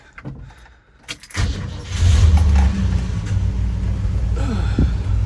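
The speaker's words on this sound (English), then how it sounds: "I'm gonna go ahead and start up the car" Keys jangle, then a 1968 Ford Ranchero engine cranks and catches, settling into a loud, steady idling rumble.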